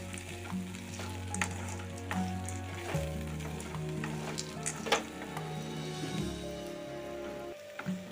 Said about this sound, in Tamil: இப்போ இது எல்லாத்தையும் சேர்த்து 1 நிமிஷம் வதக்கிடலாம்.